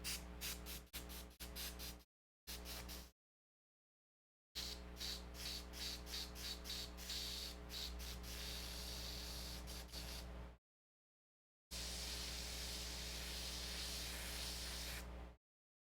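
An airbrush spraying acrylic paint gives a loud, close hiss in several bursts, some rapidly pulsed and others held for several seconds, separated by silent gaps.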